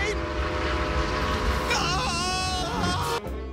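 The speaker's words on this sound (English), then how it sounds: "Oh, no! Upside-down train!" Cartoon train rumbling past in an animated comedy scene, a steady loud mechanical roar with a rising whistle-like tone midway and rapid clatter, cutting off abruptly near the end over music.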